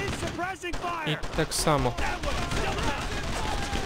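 Sharp rifle and machine-gun shots crack in World War II shooter game Brothers in Arms: Road to Hill 30, in scattered bursts under a man's speech.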